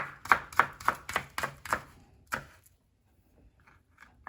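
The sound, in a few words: chopping onion finely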